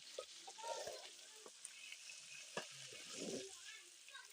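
Pork offal frying dry in a pan, a soft, steady sizzle broken by scattered stirring scrapes and pops, fairly quiet and close.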